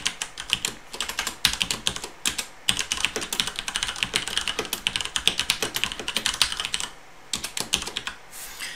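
Rapid, uneven clatter of fingers typing on a computer keyboard while writing CSS web layout code, close and steady for nearly nine seconds with a few short pauses between bursts.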